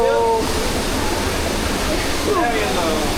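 Waterfall water at the Damajagua falls in the Dominican Republic rushes in a loud, dense, continuous roar close by, with brief whistle-like tones near the start and end.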